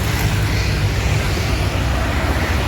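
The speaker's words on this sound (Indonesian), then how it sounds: "ada bus MPM." An MPM intercity bus on the Padang–Bandung route passes along a road, giving a loud, steady roar of engine and tyre noise that fills the whole moment with no break.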